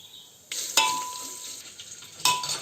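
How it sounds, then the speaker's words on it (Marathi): Garlic dropped into a hot pan for a Konkani home-style dish crackles and sizzles, with sharp onset bursts and a metallic clink of a utensil against the pan, close and clear. "आता आपण लसूण टाकूया"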